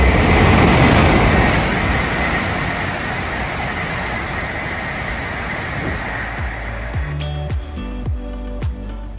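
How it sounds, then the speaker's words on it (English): A Toyama Chihō Railway train rumbles along steadily at close range, a broad continuous roar that eases slightly, then gives way near the end to rhythmic clacks over rail joints. "I'm catching the Toyama Chihō Railway back to Shin Kurobe"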